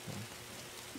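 Rain falls in a Roblox game: a soft, faint patter and hiss, steady and brief, with no voices.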